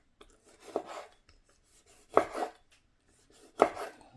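A tomato chopped with a knife for guacamole: three separate slicing strokes, each a short crisp cut followed by a brief rasp against the board, close and clear, with quiet gaps between.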